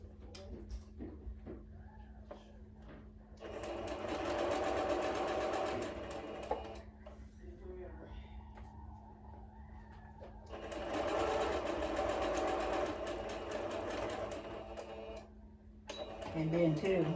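A sewing machine stitches a quilt block in two sustained runs of rapid, even clatter, close and fairly loud, with quieter stretches and faint voice sounds between the runs.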